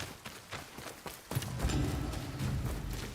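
Horse hooves clip-clop in the samurai game Ghost of Yotei, a rhythmic walk of distinct hoof strikes that shifts into a louder, denser trotting rumble partway through.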